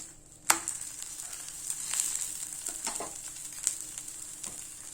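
Paneer paratha cooking in oil on a flat pan gives a steady, close sizzle with a few sharp scrapes and taps as it is turned, no voices.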